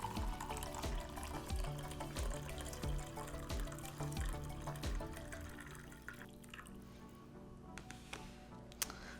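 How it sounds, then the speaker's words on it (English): Coffee poured from a French press into a cup, a steady liquid stream with light clinks over the first few seconds that thins and fades toward the end. "So now I'm gonna rotate my French press to the pour side."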